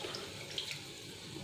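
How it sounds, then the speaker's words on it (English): Hot water pours steadily into a mushroom cashew masala curry in the pan, a soft, even splashing stream with no talk over it. "To this, now I'll add hot water"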